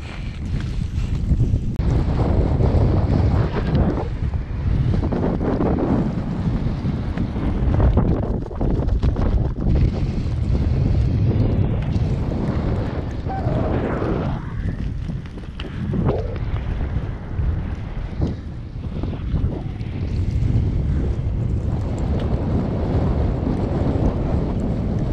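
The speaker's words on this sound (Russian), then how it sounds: "Ветер превращается в песчаный ураган практически." Strong winter wind sweeps the snowy Carpathian mountains, a loud continuous roar buffeting the microphone for the whole stretch, steady with slight surges and no voices.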